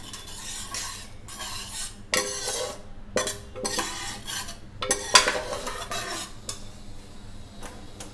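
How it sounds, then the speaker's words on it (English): Andhra village-style fish curry ingredients being stirred in a pot, repeated scraping strokes of a spoon against metal in irregular bursts over a faint sizzle, close and clear with no talk. "Mix all of them."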